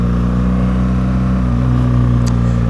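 A 2017 BMW R1200 GS Exclusive motorcycle pulls away on a Swiss road, its engine droning loud and close with steady harmonic tones that rise slightly as it accelerates.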